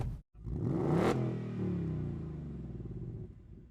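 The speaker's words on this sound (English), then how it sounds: "rev it right out, don't hit the rev limiter this time" A 2022 Hyundai i20 N launches hard, its engine revving up sharply to a rising peak and then holding a rough, throbbing drone. A brief cut is heard at the start, and no one talks.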